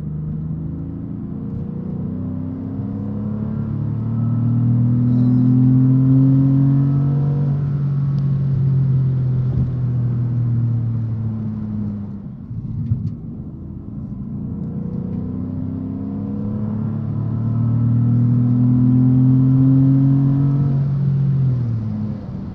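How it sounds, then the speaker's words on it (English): An older Porsche 911's flat-six engine revving hard during spirited driving, two long surging pulls with rising and falling pitch, a brief lift between them, loud and close from inside the car. "I'm never gonna tire that flat six Porsche sound."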